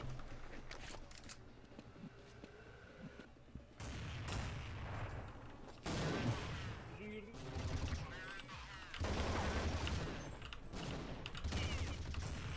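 Gunfire in the Counter-Strike 1.6 game on a public server, continuous rapid bursts and volleys of shots throughout, with a voice talking over the fighting.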